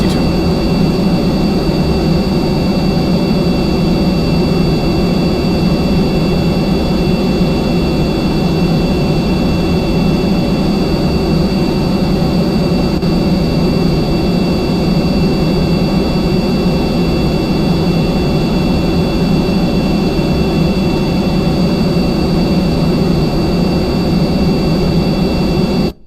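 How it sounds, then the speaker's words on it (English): A B-52 bomber in Kerbal Space Program comes in to land, its jet engines giving a loud, unbroken roar with a steady high whine that never lets up. "now we are going to land the B-52"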